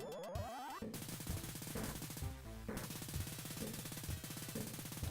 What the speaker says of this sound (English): Look at that Browning M2 machine gun that he's using.